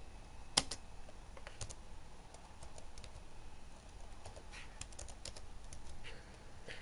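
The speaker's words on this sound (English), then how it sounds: "It's hard typing with one hand." Keys on a computer keyboard with a sticky T key are pressed with one hand, producing faint, uneven clicks in irregular bursts with pauses between, one sharper tap near the start.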